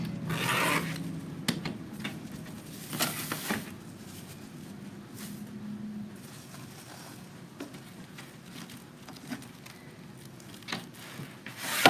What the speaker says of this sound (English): So I'll start off by cutting the mesh